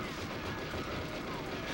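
In the GoldenEye video game, gunfire rattles continuously while shooting small boxes, a dense, loud barrage of rapid shots filling the whole stretch without pause.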